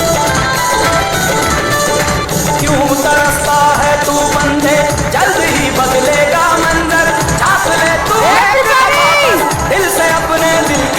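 A large audience at an Indian stage event cheers loudly, with whoops and shouts, and likely claps throughout as voices rise and fall in a continuous, dense crowd noise.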